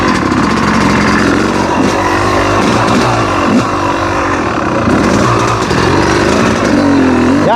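A Yamaha YZ250 two-stroke dirt bike engine runs loud and close, its revs rising and falling on their own in an unsteady, rasping idle throughout.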